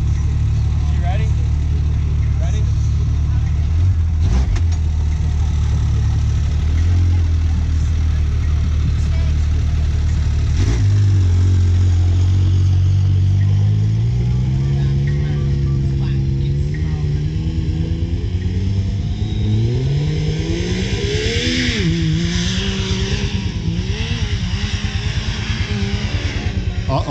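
A Yamaha YXZ side-by-side's engine revs and strains as it climbs a pea stone hill in four-wheel drive, a steady loud mid-range drone with rising and falling pitch, while people talk over it throughout.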